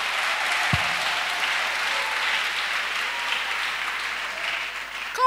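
Steady applause fills a Friday prayer night gathering in Abidjan, a dense continuous clapping from a crowd that holds evenly throughout, with no talk over it.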